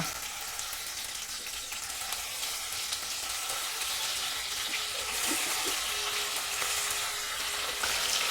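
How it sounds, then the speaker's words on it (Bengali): Parshe fish slid into hot mustard oil in a wok for a Bengali fish curry, giving a steady, dense sizzling hiss of frying with light crackles throughout, fairly quiet and without voices. "এবার আমি একে একে মাছগুলো কড়াইতে দিয়ে দিচ্ছি ভাজার জন্য"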